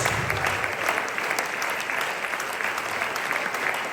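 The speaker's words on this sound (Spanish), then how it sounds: "¿Alguien quiere aplaudir la presencia de Dios?" A church congregation applauding during a worship service, steady and even clapping that fills the room, heard alone without speech.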